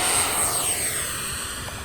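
An RC model Tomcat jet aircraft flies at an airfield with a steady, loud engine roar that slowly fades and shifts in pitch as it passes and moves away, heard alone without talk.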